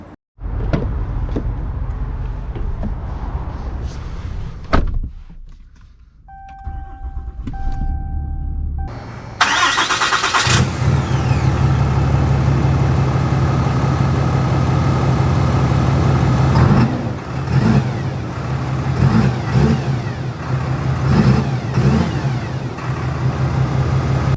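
A Ram 2500 RMT Edition lifted pickup truck starts with a loud crank and catch, then idles and revs steadily as it pulls away, the engine drone close and continuous with brief surges in throttle.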